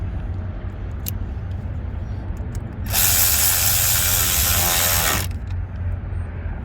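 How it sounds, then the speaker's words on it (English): A ratchet tightening the air box clamp on a 2018 Chevrolet Silverado 2500HD, a loud continuous burst of rapid clicking lasting a couple of seconds amid quieter handling noises. "put that back, tighten this clamp back up."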